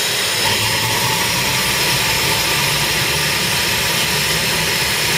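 A Kroll BR10 waste oil burner starting up and igniting gives a steady, loud, continuous roar of fan and combustion with no change across the stretch.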